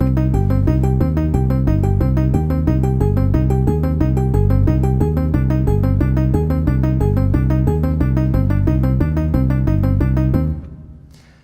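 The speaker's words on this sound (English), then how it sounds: "when I turn on the arpeggiator and play back the sequence, it sounds like this." Synth chords run through the CARBON sequencer's arpeggiator, one chord per step, producing a fast continuous stream of bright rippling notes for about ten seconds before stopping and fading out.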